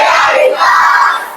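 A class of eighth-grade students shouts a cheer chant together at close range, a loud burst of massed young voices lasting just over a second.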